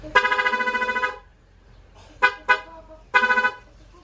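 A car's added loud horn is switched on and off by a toggle switch, giving a long blast, two short honks, then a final medium blast, close and loud with quiet gaps.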